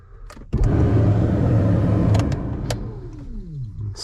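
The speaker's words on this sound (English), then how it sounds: "So I'm gonna get the skid loader here fired up, get this thing warmed up" A skid loader's engine cranks and catches, then settles into a loud, steady idle while warming up, with a brief clunk or two near the end; no talking.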